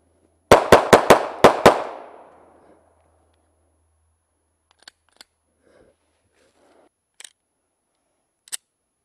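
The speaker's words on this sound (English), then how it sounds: "Glock 42, first test fire." Glock 42 pistol fired in a quick string of six sharp, loud shots with a short echoing tail, followed by quiet with a few faint clicks and small handling noises.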